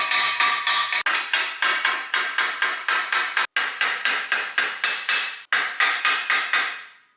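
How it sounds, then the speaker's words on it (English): A hammer strikes metal parts on a big-block engine in a home garage, about twenty sharp, evenly spaced blows at a steady rhythm, each ringing briefly, with two short pauses. "Actually, a little hammer-dooski here."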